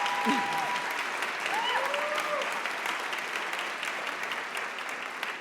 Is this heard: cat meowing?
no